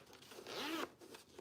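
Zipper on the pocket of a sewn tote bag pulled in one quick close zip, followed by faint rustling of fabric.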